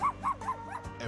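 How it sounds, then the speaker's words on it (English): A dog gives a run of four quick yelping barks, fairly close and fairly loud, with a softer whimper at the end and no talk over them. "but dog's gonna bark"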